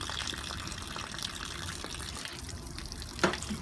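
Water from a small hose flushing grease and metal debris out of a pipe, a steady wash of running water throughout with a brief splashing burst near the end.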